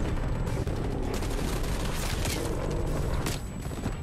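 Dense, continuous gunfire and explosions from the video game Call of Duty: Cold War, a sustained loud barrage with overlapping shots and booms throughout, no clear gaps.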